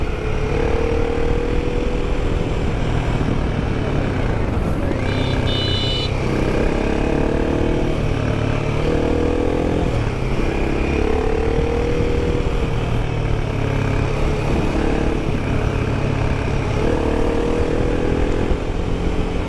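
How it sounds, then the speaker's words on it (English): Royal Enfield Himalayan 450 (Sherpa 450 engine) motorcycle droning steadily while riding narrow mountain roads, with rising and falling revs as it pulls through the gears, loud and continuous with wind noise. "I just love the mid-range of this engine here,"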